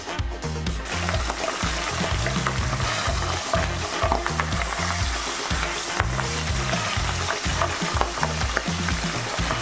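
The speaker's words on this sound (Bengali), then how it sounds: "ততক্ষণ এবার আমি মাছগুলো একে একে ভেজে নিই।" Pabda fish frying one by one in oil, a dense, continuous sizzle and crackle, close and fairly loud, with a repeating low rumble beneath it and no speech.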